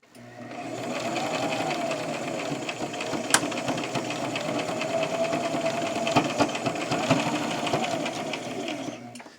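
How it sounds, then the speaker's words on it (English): A sewing machine stitches the pleats of a fabric face mask, with one steady, continuous mechanical whir running throughout at close range and no talking. "And I like using my seam ripper to sort of hold it as I'm sewing it."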